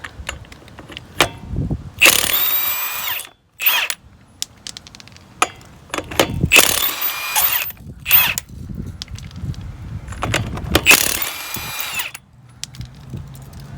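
Impact wrench zipping lug nuts off a wheel of a Ford E-250 van in a garage during a front brake job, three loud whirring bursts with clicks and clatter between them, no talking.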